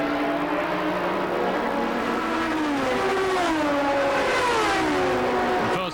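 A Courage Judd Le Mans prototype racing at Monza, its engine a loud, sustained high-pitched scream with sweeping pitch changes through the gears as it passes close by.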